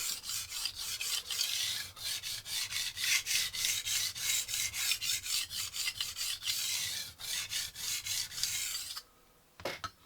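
Coarse, rhythmic rasping strokes of a Wusthof kitchen knife drawn across a VENEV diamond stone, steady back-and-forth scraping, close and fairly loud, ending with a brief pause and a few light touches.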